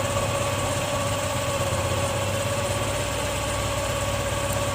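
A motorcycle engine idles close by at a steady, even rumble with a constant low throb, held at its highest idle speed while the idle screw is being set.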